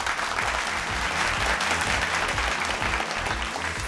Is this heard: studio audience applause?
yes